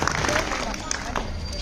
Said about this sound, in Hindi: अब हाँ, ताली बजाओ